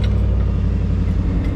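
A 1999 Chevy S-10 pickup with the air conditioning switched on, its engine turning over and catching into a loud, steady low rumble up close, with a faint light jingle near the start.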